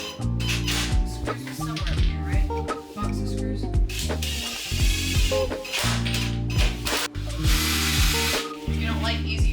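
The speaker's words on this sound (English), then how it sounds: "we install the counters by screwing up through the cabinet braces from underneath." A power drill whirs in repeated short bursts with ratcheting clicks as screws are driven up through cabinet braces into a countertop from underneath, close by, with brief pauses between runs.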